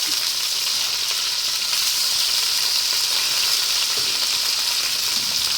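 Ginger, garlic and curry leaves sautéing in hot oil give a steady, loud, continuous sizzle with no pauses, alone and close up.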